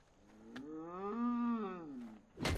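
A farm cow in Far Cry 5 at a stockyard lets out one long, clear moo that rises and falls over about two seconds, followed by a brief sharp noise at the end.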